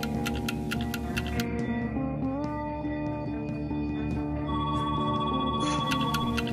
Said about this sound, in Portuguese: O telefone toca.